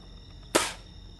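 A single sharp pop with a short hissing tail as an Adventure Force Nexus Pro foam dart blaster is slam-fired with X-Shot Pro darts, one loud close shot over a quiet room.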